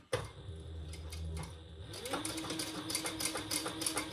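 A Fabricator sewing machine stitches through lightweight fabric. It starts with a quick startup clatter, then gives a steady, close mechanical whir with a rapid ticking pulse that builds and stays loud to the end.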